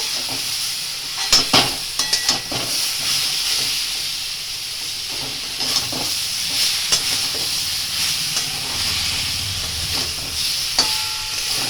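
Mango chutney is stirred and fried in a pan, with a continuous hissing sizzle broken by repeated sharp spatula scrapes and clacks against the metal.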